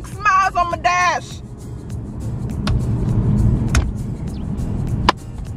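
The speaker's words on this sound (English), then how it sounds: "I'm surprised the car's still moving." A car low on gas is being driven, its steady low engine and road rumble running throughout beneath a few sharp clicks and knocks, with a person speaking briefly at the start.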